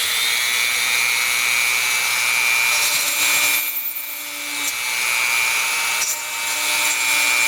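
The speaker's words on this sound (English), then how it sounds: "We're going to try to just drill a little hole like right back in here." A small Dremel rotary tool grinds into the case of an Admiral vacuum tube radio, model 5R12-N, with a loud continuous high whine that briefly drops away twice, then resumes.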